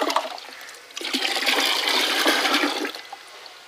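Liquid fertilizer is poured directly onto the ground around a mangosteen tree, a steady splashing gush lasting about two seconds, preceded and followed by faint trickles.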